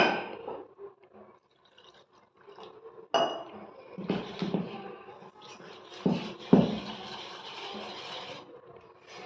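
Wheat dosa batter being stirred by hand in a bowl, with wet squelching and rubbing sounds, occasional clinks against the bowl, and irregular bursts of mixing separated by quieter moments.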